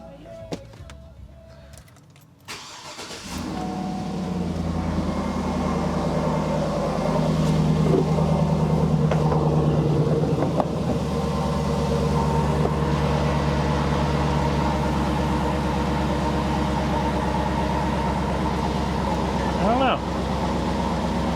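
A GM vehicle engine cranks and catches, then settles into a steady, loud, close idle with a deep rumble that runs on without break, and a voice speaks briefly over it.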